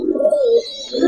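Pigeons in a breeding loft give a close, steady low coo that swells and dips over about a second, followed by a second cooing phrase.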